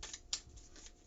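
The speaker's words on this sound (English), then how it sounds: "we're going to go ahead and shuffle this deck for Sagittarius" A deck of tarot cards being shuffled, a brief soft riffle and flutter of cards up close with a single sharper snap, quiet and alone.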